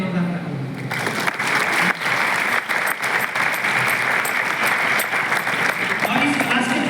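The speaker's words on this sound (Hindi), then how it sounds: "सर के लिए जोरदार ताली।" A seated audience at a direct-selling industry talk bursts into loud, sustained clapping for the presenter, the dense applause building after a brief moment of voice and carrying on steadily.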